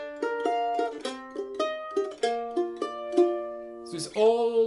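Plucked mandolin crisply cross-picking arpeggiated chords from the piece Madame Neruda in a steady rolling pattern, each note ringing briefly, ending on a brighter strummed chord.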